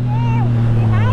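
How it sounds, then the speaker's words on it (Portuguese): Motorcycle engine held at steady high revs while the bike pops a wheelie, a loud continuous drone with strong wind rush, alone without speech. "o motor aqui tá empinando em centro e pô, entrada no acelerador"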